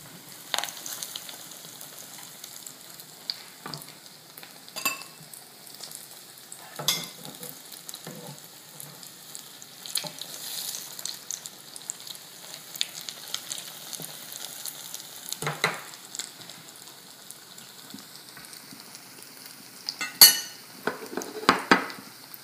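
Potato cutlets coated in egg and breadcrumbs fry in oil with a steady crackling sizzle, broken by occasional clinks and scrapes of a utensil against the pan.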